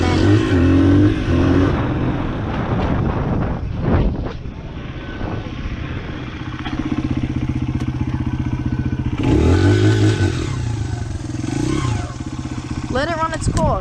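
A dirt bike engine revs and pulls away as the clutch is released, a loud, close motor drone that rises and falls in two surges, ridden from a helmet-camera view.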